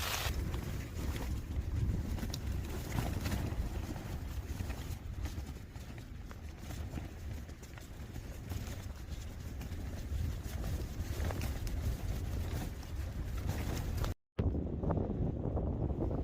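Strong wind blows without pause across a tent pitched at a wild mountain campsite on High Street in the Lake District, a loud, rushing roar buffeting the microphone close up.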